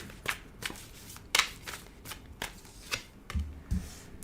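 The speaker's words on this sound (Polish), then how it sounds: "niech ja rozłożę całość kart" Tarot cards are shuffled and laid down one after another in a steady series of soft, close slaps and flicks, with a low thump near the end.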